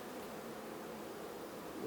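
Honey bees buzz around a hive frame during a swarm inspection, a continuous dense hum of many insects close by, steady and unbroken for about two seconds.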